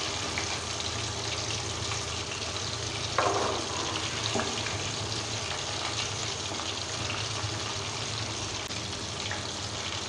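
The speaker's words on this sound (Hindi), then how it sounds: "अब इनको मैं फ्राई करूंगी 10 मिनट के लिए मीडियम टू लो फ्लेम पे" Chicken wings bubble in hot oil over a medium-low flame, a dense, even sizzle running the whole time with a couple of brief spatter bursts, close and steady.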